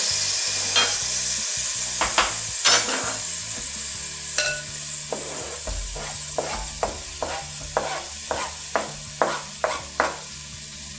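Garlic sizzles and fries in a pan with mushrooms and Marsala wine for stuffed mushrooms, a steady hiss broken by repeated sharp scrapes and clicks of a utensil stirring, close and alone without talk.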